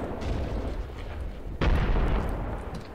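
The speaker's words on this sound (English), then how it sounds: "Damn it, hand grenade fighting." Hand grenades burst amid gunfire in the Graviteam Tactics war game, with a rumbling battle din and one loud, close blast about halfway through, followed by heavy sustained booming.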